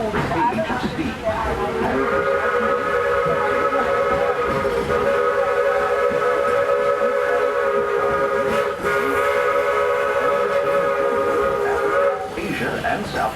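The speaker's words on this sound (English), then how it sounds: "we're traveling on pure steam power" The Walt Disney World Railroad steam locomotive at the Magic Kingdom sounds a long, steady multi-tone whistle for roughly ten seconds over the rumble of the moving train, cutting off near the end as the running noise continues.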